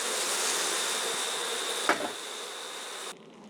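Honeybees buzz in a dense, steady drone around an opened hive, joined by a brief thump midway, before the sound drops away abruptly near the end.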